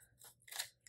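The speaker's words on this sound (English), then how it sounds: "Maybe we make this a little bit smaller, like I cut here and here." Scissors snip through a corner sticker while setting up a planner dashboard in a quad layout, giving a couple of quick crisp cuts, close and quiet.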